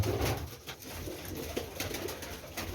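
Pigeons in breeding crates give soft, repeated throaty coos, close and fairly quiet, over low background noise.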